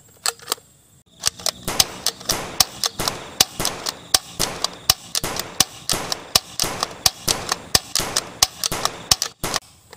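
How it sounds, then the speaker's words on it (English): A blue toy blaster gun fires in a rapid string of sharp, snappy electronic shots, some twenty bursts in quick uneven rhythm, close and loud with no talk. "Blaster gun blue."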